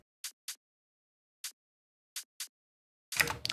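Hi-hat sample without Ozone mastering processing: several short, thin, bright ticks in an irregular pattern, then a louder, denser burst of noisy hits at the end.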